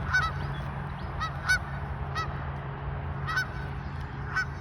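A flock of geese keeps up a string of loud, nasal honks at fairly close range, calls coming every second or so over low outdoor background noise, no voices.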